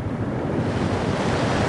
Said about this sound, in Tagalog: ngayon nga buhos na naman yung ulan